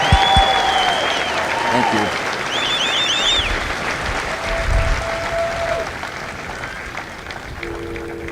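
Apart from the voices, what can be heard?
audience applause at Marine graduation ceremony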